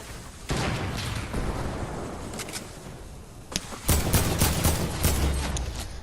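Gunfire in a duos battle royale video game comes as rapid bursts and sharp shots over a dense, steady game soundscape, growing louder and busier toward the end.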